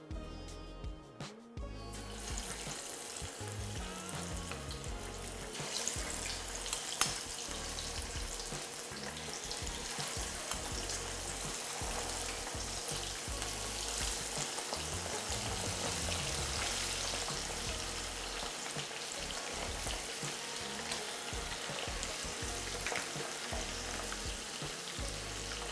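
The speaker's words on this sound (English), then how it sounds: "In this pan, I'm already heating some oil, so I'm going to fry my fish." Fish fries in hot oil in a pan, a continuous soft sizzle and crackle heard close up, fairly quiet and steady after a brief clatter at the start, with no talking.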